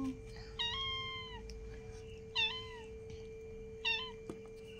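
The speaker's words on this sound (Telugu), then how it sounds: "పిల్లి తల్లి ఆద్యమ్మ పిల్లి వచ్చిందిరా." A cat meows three times, drawn-out and fairly close, with pauses between calls over a low steady hum.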